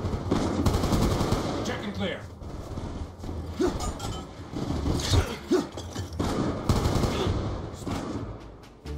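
Automatic and rapid gunfire in the multiplayer video game Call of Duty Black Ops 2, loud repeated bursts with short pauses over a busy background of in-game effects and occasional voices.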